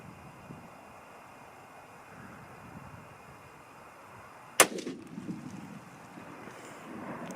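A single 6.5 Creedmoor rifle shot cracks sharply midway through a quiet, wind-buffeted outdoor stretch, followed by a brief echoing tail.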